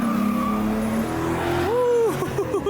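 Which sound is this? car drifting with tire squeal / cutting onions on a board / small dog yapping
car drifting with tire squeal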